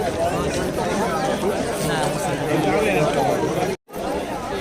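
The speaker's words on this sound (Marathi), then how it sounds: "पाहू शकता इकडे भाविकांची गर्दीच गर्दी झालेली आहे" A dense crowd of devotees mills about at an annual temple fair at the Mansishwar temple in Vengurla, a steady babble of many overlapping voices and movement, with a narrator speaking over the hubbub.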